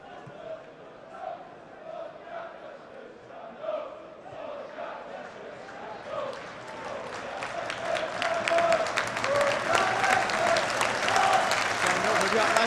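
Football crowd at a Chesterfield v Exeter City match, chanting and singing that swells into a loud, sustained roar of voices and clapping partway through, with a commentator talking over it.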